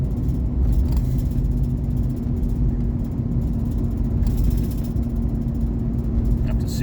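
A car drives along a dark road at night by headlights, giving a steady, close engine and road rumble with faint rattles throughout, with no one talking.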